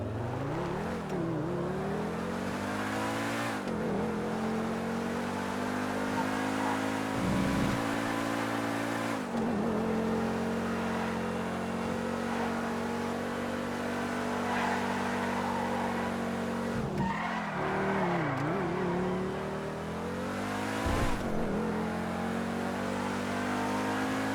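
A fast, high-priced car in a video game revs its engine continuously, the pitch climbing and dropping through several gear changes with a few sharp swoops, loud and close with no talking.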